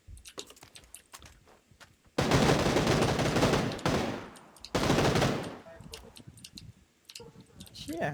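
PUBG video game gunfire: two long bursts of loud, rapid automatic fire, with scattered single shots and clicks between them, while a player talks over the action.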